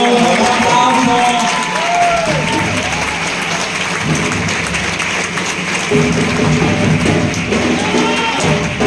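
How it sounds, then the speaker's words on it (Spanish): An audience applauds a newly crowned 2024 carnival king at a Veracruz event against discrimination, with steady, dense clapping and cheering filling the whole stretch, along with some raised voices in the crowd. "¡Un aplauso!"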